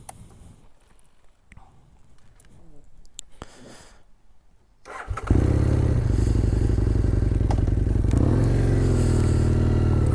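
Quiet rustling and handling noises give way abruptly to a Husqvarna Nuda 900R motorcycle riding on a quiet road, its loud steady engine drone with wind roar and shifting pitch as gears change.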